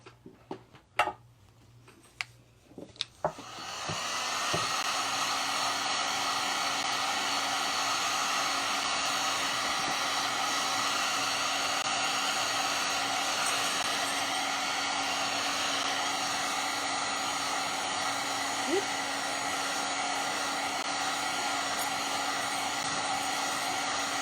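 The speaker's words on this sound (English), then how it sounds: "I will use the heat gun for just a second." A few faint clicks and taps, then a heat gun switches on and blows a loud, steady, close roar for about twenty seconds while drying paint on bunny-shaped spring decor; no one speaks.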